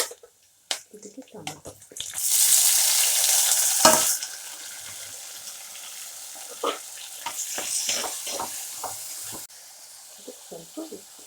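Chana dal and urad dal frying in a pan: a burst of hissing sizzle for a couple of seconds, then quieter intermittent sizzling broken by clinks and scrapes of stirring.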